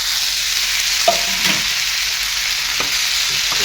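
Vegetables sizzle in a hot pan with turmeric and chili powder, a steady bright frying hiss with occasional scraping stirs and light clinks, close and continuous with no talking.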